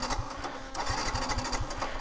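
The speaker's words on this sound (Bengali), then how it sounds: "ইঞ্জিন স্টার্ট দেন আগে" A car engine starts during a driving lesson, its low rhythmic pulses settling into a steady run that stays close and moderately loud.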